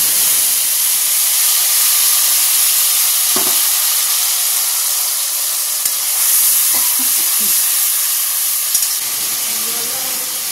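Tomatoes and green chilies frying in a wok with five-spice seeds, a loud, steady sizzle and hiss that runs unbroken, with a few faint clinks of stirring.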